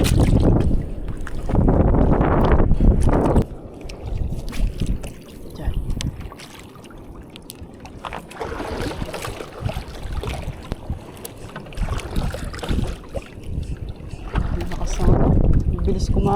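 Strong gusty wind buffets the microphone over open sea water with a current, with loud rushing bursts rising and falling and a voice talking at times.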